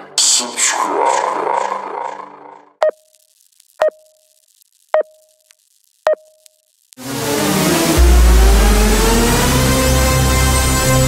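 Vehicle engine in Ring of Elysium: after four short, evenly spaced beeps in near silence, a loud, close engine roar suddenly kicks in and keeps climbing as the vehicle revs and speeds up.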